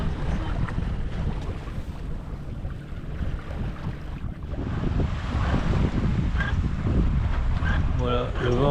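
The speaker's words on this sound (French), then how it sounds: "le vent est un poil plus fort" Steady wind blows across a sailboat cruising downwind in open sea off the French coast, a continuous broadband rush mixed with water and hull noise, with faint voices under it.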